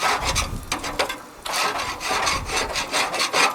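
A flat blade screwdriver scrapes across a hot barbecue grate in a series of rough, rasping metal strokes, some short and some drawn out, close by and with no talking.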